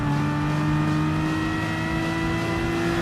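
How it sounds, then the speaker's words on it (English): Aston Martin race car in Gran Turismo Sport, its engine droning steadily with a sustained tonal whine and a slight pass-by swell, loud and continuous with no talking. "now giving a little pass on the Aston Martin"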